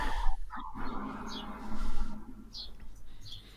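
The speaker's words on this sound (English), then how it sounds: "You can hear birds." Brief high chirps from birds outside an open window come through a few times over a steady low hum and background rumble, fairly faint and spaced apart.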